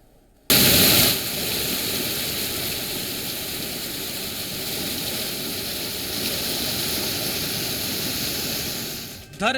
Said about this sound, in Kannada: ಮಳೆ ನೀರಿನಿಂದ ನದಿಯಂತಾಗಿರೋ ರಸ್ತೆಗಳು